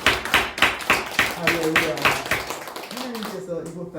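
A church congregation at a Sunday service claps in a steady rhythmic beat, loud and close, while a voice speaks and sings over the clapping.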